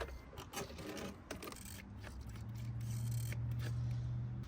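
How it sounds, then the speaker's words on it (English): Snips working through the bottom lock of a metal shake roof shingle, giving a steady scraping, grinding cut with a few sharper clicks that hums on without pause, no talk over it. "Then make a straight cut all the way through the bottom lock."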